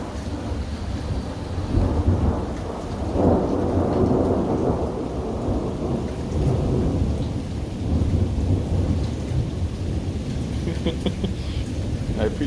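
An early morning thunderstorm outside a house: steady heavy rain and rumbling thunder fill the whole span, with a loud swell of thunder near the start and constant wash of rainfall, while voices are faintly audible.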